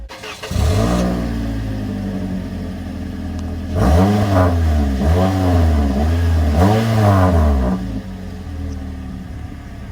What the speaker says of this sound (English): let me go ahead and start up the car for you guys